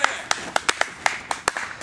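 Scattered, uneven hand claps from a small wrestling crowd at the start of a match, about a dozen sharp claps over two seconds, fairly close and moderately loud.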